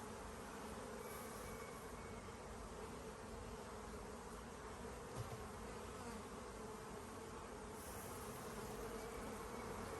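Honey bees swarm loudly and continuously around an open hive during a hot-day move-in, a dense steady buzz filling the whole stretch without pause.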